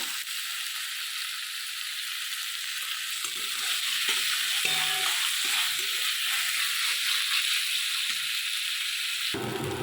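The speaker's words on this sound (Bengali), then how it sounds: "দিয়ে ভালো করে আমি এটা ভেজে নেবো টমেটোর কুচিগুলো আমি দিয়ে দিলাম" Chopped tomatoes with garlic paste fry loudly in a pan for a spinach paneer dish, giving a continuous close sizzle with occasional stirring scrapes.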